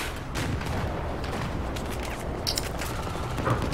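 Sustained gunfire and explosive booms from a team shooter game battle with a tank in action, dense overlapping shots over a constant roar, with a couple of sharper cracks near the end.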